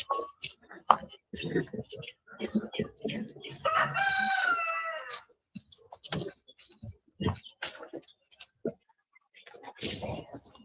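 A rooster crows once, loud and near, in a backyard chicken coop setting, with a sustained harmonic call in the middle surrounded by scattered clicks, knocks and bursts of speech before and after.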